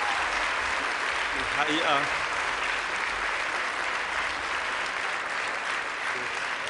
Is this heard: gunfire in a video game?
no